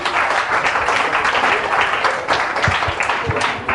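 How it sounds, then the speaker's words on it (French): A church congregation at a full-gospel tabernacle applauds warmly, a dense, close wash of many hands clapping steadily, with a few louder individual claps standing out near the end. "On l'applaudit."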